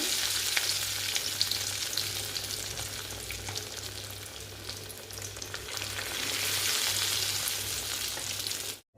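Fish fries in hot oil with a loud, continuous sizzle and crackle, steady for several seconds, close up with no voices, before cutting off abruptly.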